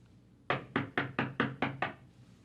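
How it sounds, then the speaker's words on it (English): Knocking on a door, demonstrated: six firm, evenly spaced raps in quick succession, close and clear with no talk over them. "That's the way I knock."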